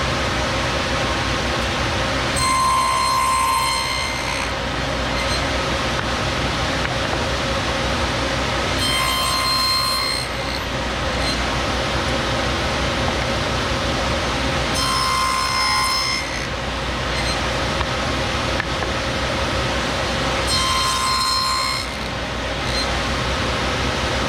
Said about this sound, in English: I'm gonna cut a rabbet in the corner of each of these.